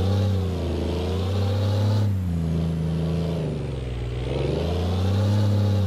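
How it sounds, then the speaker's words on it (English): A heavy truck engine in American Truck Simulator labors to drag a trailer uphill, a deep, steady droning rumble that dips and rises slightly in pitch as it strains, close and continuous. "See if we can drag the trailer up the hill here."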